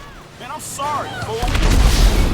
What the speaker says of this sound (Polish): Przepraszam bardzo, ile ten nalot jeszcze będzie trwał?